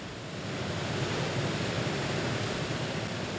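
A fast-flowing mountain stream rushes in a steady, dense roar of water, loud and constant throughout with no pauses or other sounds.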